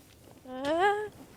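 A single Minecraft sheep bleat from the video game, a short wavering tonal baa rising slightly in pitch, clear and alone.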